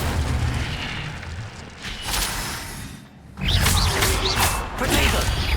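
A fire spell cast in Hogwarts Legacy roars out as a loud booming whoosh with crackling bursts, dropping away briefly before a second fiery surge rises over a busy game soundscape.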